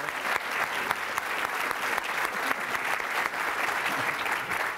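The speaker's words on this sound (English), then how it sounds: "I would love to invite everyone to give our astronauts a round of applause." An audience at a human spaceflight event gives astronauts a round of applause, a thick, even wash of many clapping hands sustained throughout, with a crowd murmur underneath.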